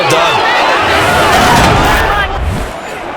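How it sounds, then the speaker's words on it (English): A video-game stadium crowd in a Madden NFL 23 simulation, Denver Broncos against the Las Vegas Raiders, cheering and applauding the defense in a loud, continuous roar of massed voices that eases off near the end. "Some applause for the defense there."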